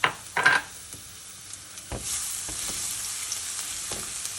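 Garlic drops into hot olive oil for vegetable pancit noodles, a couple of sharp clatters then a soft continuous sizzle rising and holding, near but quiet, with no talking.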